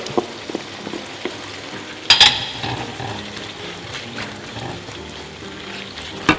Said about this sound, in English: The squid's cooking nicely.